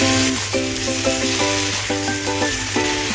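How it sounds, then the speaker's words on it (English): Tomatoes sizzle as they are stir-fried in red oil for homemade fried Assam noodles, a steady close hiss running beneath a melodic tune for the whole stretch. "Add the tomatoes and stir-fry until they soften and become fragrant."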